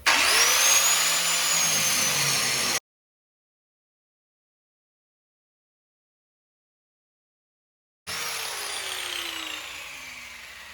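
Angle grinder cutting through a steel sway bar link on a 2007-2013 Chevrolet Silverado or GMC Sierra, a loud, steady high-pitched whine with shifting pitch that cuts off abruptly, leaving silence before the grinding resumes.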